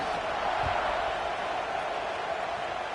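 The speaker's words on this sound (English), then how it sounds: "this crowd is buzzing after that last score" A football stadium crowd at a UCLA game hums and murmurs steadily after a score. The broad, even roar sounds distant and holds level throughout with no distinct cheers.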